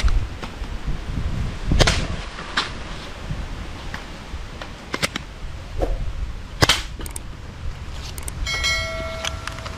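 A toy blaster gun fires a handful of sharp, snappy pops at irregular intervals, close by over a low background rumble.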